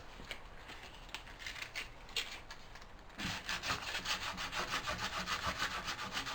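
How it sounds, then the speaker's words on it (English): Sandpaper wrapped on a small block rubs against wood while building a Morris chair, producing close, rhythmic back-and-forth strokes that become louder and more even halfway through. "I need to have a little bit of sandpaper and a little block."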